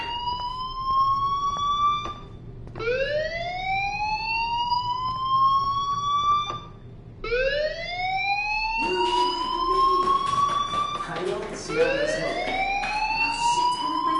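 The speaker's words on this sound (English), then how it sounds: "do you hear that fire alarm?" Rising and falling electronic alarm wails loudly in a repeating cycle inside the video game Life is Strange, each sweep climbing in pitch, with extra overlapping tones and clatter building toward the end.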